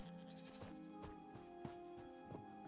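A sheep in The Elder Scrolls Online bleating repeatedly in short wavering calls, faint and alone over quiet game ambience.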